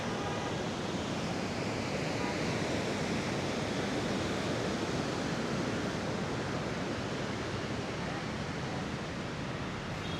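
Strong ocean surf at Da Nang beach on a full-moon day, a steady broad roar of breaking waves with wind, continuous and fairly distant with no distinct individual crashes.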